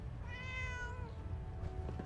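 A cat meows once, a drawn-out, falling cry heard in Fallout 4, clear and close over a steady low rumble of game ambience.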